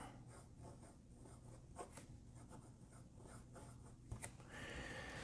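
Moonman M100 fountain pen fitted with an FPR flex nib and filled with Waterman Absolute Brown ink, scratching steadily across paper in close, quiet strokes with a few sharper scrapes.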